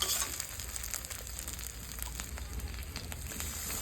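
Ginger, garlic and green chili paste fries in a pan for a Bengali-style katla fish kalia, a soft continuous sizzle with faint crackles and occasional stirring scrapes, close and quiet.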